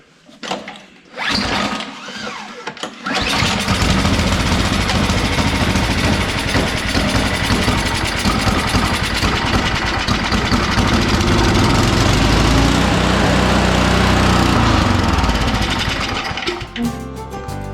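A repaired snowblower engine, primed and then yanked with a pull cord, gives a couple of short pull sounds before catching and running as a loud, steady, rattling idle that lasts until near the end.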